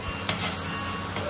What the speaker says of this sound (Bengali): বেগুনও দিয়ে দেবো পরিমাণ মতো নুন আর হলুদ দিয়ে ভালো করে ভেজে নেব